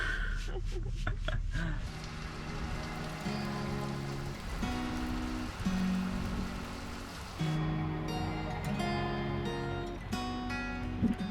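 Steady rain patters on a boat in a continuous wash beneath music and occasional talking.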